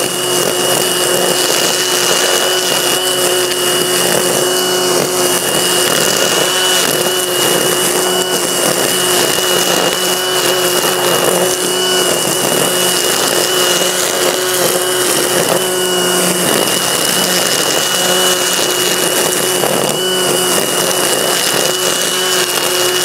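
A Greenworks string trimmer runs at its maximum third speed, a loud steady high-pitched motor whine with a constant tone that holds unbroken throughout.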